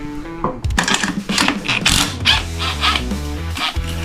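A ratchet wrench loosening a bolt on a Kawasaki KFX400 quad's exhaust, a close, loud run of quick metallic clicks and grinding mechanical turns.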